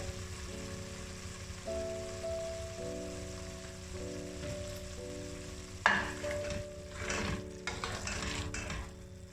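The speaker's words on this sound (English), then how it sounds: "We will stir them for about 1 to 2 minutes in an open container" Tomatoes frying uncovered in an open pan for a yoghurt chicken curry, with a steady broadband sizzle and a brief burst of scraping as they are stirred midway, over a low constant hum.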